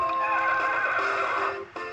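Horse neighing in the Harvest Moon: Sunshine Islands video game, a loud, bright whinny lasting about two seconds that dips and briefly resumes near the end, with no talk.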